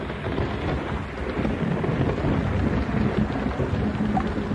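Steady heavy rain with low rumbling thunder rolling underneath, a dense continuous wash at an outdoor camp by a fox's hole, loud and unbroken with no voices.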